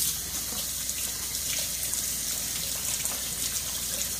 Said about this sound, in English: Now I'm going to wash my hands off and dry them